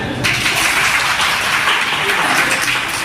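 Children in a school classroom clapping together during a game, a continuous busy patter of many small hands, fairly close and steady, with some voice noise mixed in.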